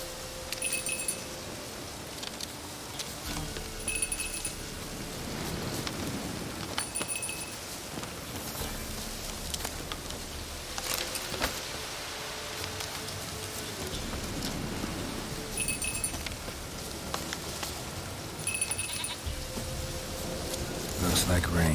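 Steady rain falls throughout a scene in The Witcher 3, a broad hiss with scattered droplet clinks, while voices talk over it intermittently.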